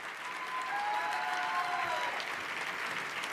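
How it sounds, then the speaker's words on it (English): Steady, dense applause from an audience at an event where people are being introduced, a continuous broadband clatter of many hands at even loudness throughout, with a few faint tonal whistles or cheers rising above the clapping. "you got to bring the applause way up, way up, way up"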